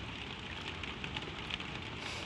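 Soft, steady rain patters on a roof in an even, continuous wash with no voices, the constant hiss holding at a low, calm level throughout.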